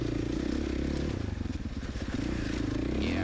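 A Husqvarna FC450 dirt bike runs steadily along a trail, its engine droning loud and continuous with a dip in the middle, and faint clatter from the ride.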